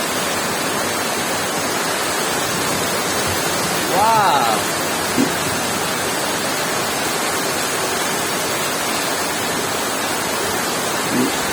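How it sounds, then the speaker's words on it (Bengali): Heavy rain pours down in a steady, loud, unbroken roar, with a brief exclamation from a voice partway through. "আল্লাহ, কেমন জোরে জোরে বৃষ্টি হচ্ছে, দেখো না এটা?"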